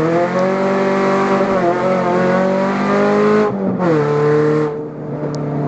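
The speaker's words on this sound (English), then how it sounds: "this is what a Cobalt SS sounds like with no exhaust" Supercharged stage 3 Chevrolet Cobalt SS running with no exhaust, a loud, raspy engine drone held steady, then a brief lift-off and a fresh surge of revs before easing down near the end.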